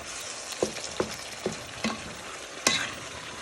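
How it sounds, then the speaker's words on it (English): Onions fry in a pan for Scouse stew, giving a soft background sizzle punctuated by about five sharp stirring scrapes and clatters, close and without talk. "add in your onions to your pan, and you want to fry them for a minute or two so they add flavour"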